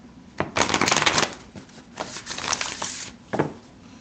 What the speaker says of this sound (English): I give them these shuffles